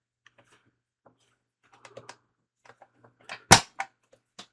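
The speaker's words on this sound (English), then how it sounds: "I can hear the amp clicking." Inside a late-1960s Bang and Olufsen Beosound 700 under restoration, the amplifier relay gives a sparse series of small, dry clicks, with one sharper, louder snap near the end, close up in a quiet room.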